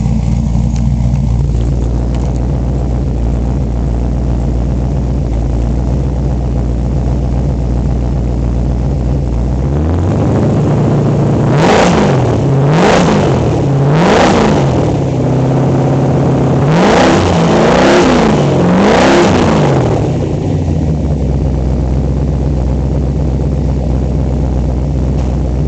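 The 390 V8 of a restored 1955 Ford F100 pickup, with 2.5-inch exhaust, idles loudly nearby, then revs up sharply several times in quick bursts before settling back to a throaty idle.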